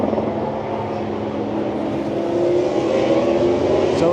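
MotoGP race bikes approach around a circuit, a loud sustained engine drone that builds steadily as they come closer, with rising pitch toward the end.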